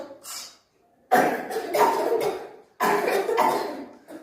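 Second-grade schoolchildren in a classroom fake a round of coughing, with one short cough followed by two longer bursts of rough, hacking coughs, close and loud.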